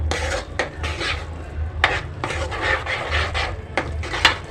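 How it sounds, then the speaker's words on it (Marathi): A utensil scrapes and mashes repeatedly against a pan while spices are mixed into a large batch of pav bhaji vegetables, giving rhythmic rasping strokes and clinks over a low background hum. "सर्व भाजीमध्ये सर्व मसाले मिक्स करायचे आहेत"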